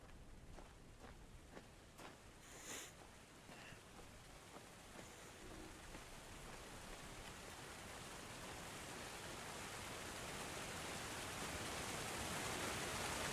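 A waterfall in the video game Obduction gives a steady broadband rush of falling water, soft at first and slowly growing louder, with a few faint clicks near the start and no speech.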